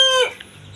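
A free-range village chicken gives one short, bright, harmonic cluck close by, which fades into quiet farmyard background.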